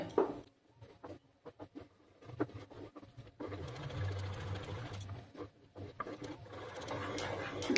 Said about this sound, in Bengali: এইভাবে অনবরত নাড়াচাড়া করে যেতে হবে।